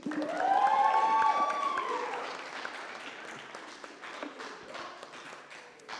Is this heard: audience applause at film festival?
yes